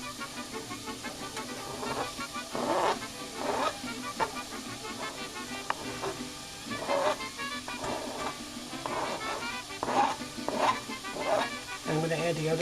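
Peppers sautéing in a pan for tomatillo salsa, a steady close sizzle with repeated stirring scrapes and bursts of crackle, continuing throughout at moderate loudness with a voice talking over it.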